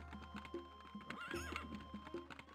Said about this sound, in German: Vor allem, wir haben ja jetzt ein Pferd.